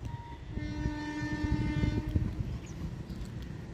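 Locomotive of the Penataran train pulling into Mojokerto station, a steady low rumble with a sustained horn-like tone and a rapid, fairly quick metallic clicking rhythm, fading slightly toward the end.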